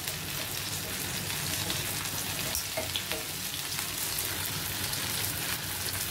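Tandoori chicken fries in a pan on a gas stove, giving a steady, dense sizzle with fine crackling spatters throughout, close and fairly loud, with no voices.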